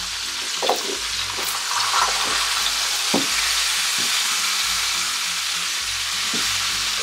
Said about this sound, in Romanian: între timp ce pulpițele noastre se prăjesc